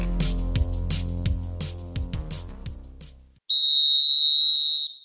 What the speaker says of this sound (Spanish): acabamos de oír el pitido de inicio de entrevista, inicio de partido